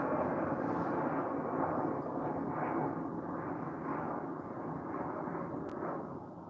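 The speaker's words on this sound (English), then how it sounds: "Sorry about the airplane. You're probably hearing that more than" A backyard at night carries a steady airplane rumble passing overhead, a broad continuous roar that slowly swells and fades slightly, with no talk.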